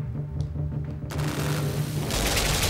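Video game gunfire in the puzzle platformer Limbo, a burst of sharp shots and a loud rumbling blast against a droning low background hum, with no talk.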